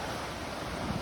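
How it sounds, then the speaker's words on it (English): Big sea waves surge against the cliffs at Dancing Ledge, a steady, broad roar of surf that fills the whole second, with wind buffeting the microphone and no voices. "Really big wave today as well, really big wave."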